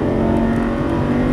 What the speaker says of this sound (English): Squeeze it on. Full throttle.